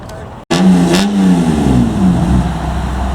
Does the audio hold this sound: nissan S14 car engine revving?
yes